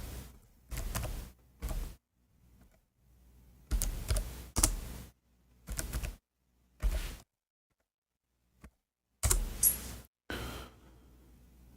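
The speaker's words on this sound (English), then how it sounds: "I'm typing in English." Keys clatter on a computer keyboard in separate close bursts of rapid typing, broken by short silent pauses, with no talking.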